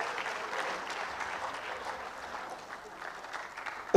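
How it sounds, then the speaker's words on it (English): Steady applause from a lecture-hall audience at a memorial lecture, a dense even patter of clapping lasting throughout, moderately loud with a faint murmur of voices underneath. "A round of applause for her once more."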